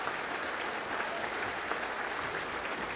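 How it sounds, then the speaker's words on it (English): A dinner-event crowd applauding steadily, dense clapping that fills the whole moment without pause, moderately loud and even throughout. "a dual round of applause for the Junior ROTC from Harding and Vocal Essence."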